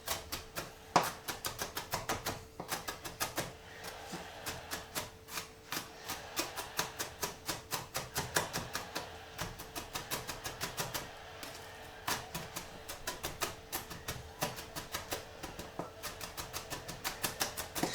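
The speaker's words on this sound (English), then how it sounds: "Chopping up chilies like this, folks" A knife chops little chilies on a cutting board in quick, sharp, rhythmic taps, sometimes in rapid bursts and sometimes more spaced out, close and clear with no talking.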